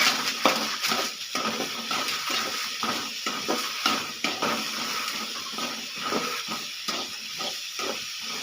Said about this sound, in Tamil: வெங்காயம் நல்லா வதங்கட்டும் ஃப்ரெண்ட்ஸ்.